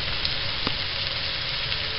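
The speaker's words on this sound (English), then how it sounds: "we just wanted you to see that and hear that sizzle" Steaks frying in a pan give off a steady, even sizzle, a close continuous crackling hiss at moderate volume with no voices.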